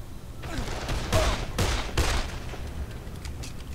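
Gunfire in the zombie video game Dead Island, a rapid rattle of shots with three heavier bursts standing out, loud and close over a steady background din.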